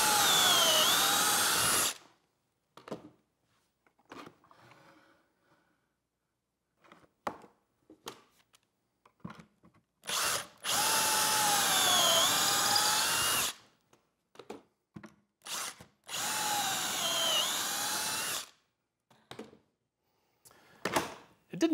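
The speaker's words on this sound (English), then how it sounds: "I can start drilling holes." A power drill runs in three loud bursts of a couple of seconds each, drilling pocket holes in wood clamped in a jig, separated by quieter clatter and handling knocks.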